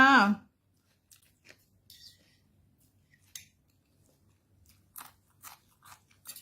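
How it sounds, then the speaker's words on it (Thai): Someone eating Thai rice noodle salad (yam khanom jeen), with short crunchy bites and chewing clicks in scattered bursts after a brief voice at the start, close and fairly quiet. "กินยำขนมจีนจากเพื่อนๆ"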